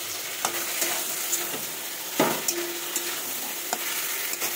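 Ridge gourd and tomatoes fry in hot oil, a steady close sizzle punctuated by regular spatula scrapes and taps as the pan is stirred, with no voices.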